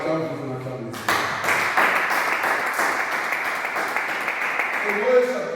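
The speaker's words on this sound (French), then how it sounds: "On acclame Jésus, on acclame le Seigneur" A church congregation applauds Jesus during a Bible seminar in a hot hall without air conditioning, the sustained clapping rising suddenly and holding loud and steady throughout, with voices mixed in.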